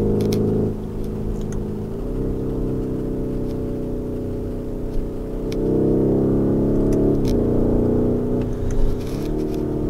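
A Lamborghini Urus SUV's engine drones loudly while driving, its deep tone rising and falling as revs shift through several throttle changes.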